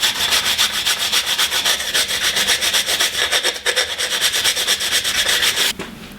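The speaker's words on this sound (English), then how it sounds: "Just gotta sand this one straight now." A piece of wood is hand sanded during a van conversion build. Brisk, even back-and-forth rasping strokes repeat several times a second, close and loud, then stop abruptly near the end.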